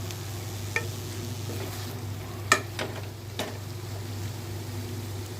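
Brinjal fry being gently stirred in a pan, with a spoon scraping and tapping a few times over a steady low sizzle, close and moderately loud, with no talking.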